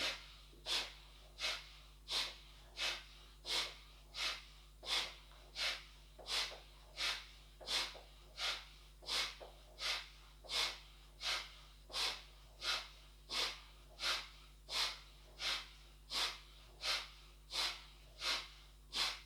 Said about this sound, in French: Inspire au milieu, expire de chaque côté.